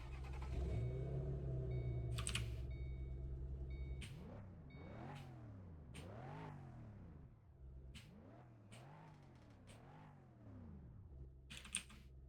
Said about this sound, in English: I interrupted myself by starting the car